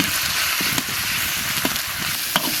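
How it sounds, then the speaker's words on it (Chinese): Beef stir-fries in a hot wok with scallion, ginger, dried chilies and Sichuan pepper, a loud, steady sizzle broken by a few sharp clicks from the stirring spatula, heard up close. "牛肉炒上色，下入葱姜、干辣椒、花椒"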